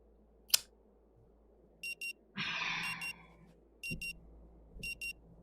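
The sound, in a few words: century-old clock ringing in the video game Rue Valley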